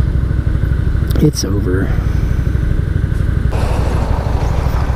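A 2017 SSR Motorsports Buccaneer motorcycle engine drones steadily and loudly while riding, with a rider talking briefly over it and the engine tone shifting slightly partway through.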